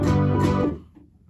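A thick supersaw poly trance synth patch sounds one dense, bright chord, loud and close, holding for about half a second before fading quickly, with no talking.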